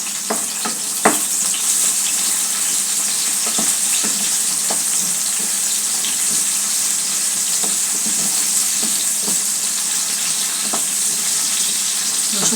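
Finely chopped garlic sizzles steadily in hot oil in a pan, a constant dense crackle with occasional louder pops and scrapes of a stirring spoon.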